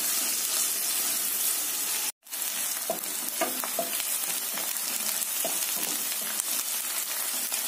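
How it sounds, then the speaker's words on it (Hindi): Onions frying in a pan until golden brown for urad dal khichdi, a dense steady sizzle with a brief dropout, then scattered stirring clicks, close and continuous with no speech. "गोल्डन ब्राउन होने तक प्याज को भूनेंगे"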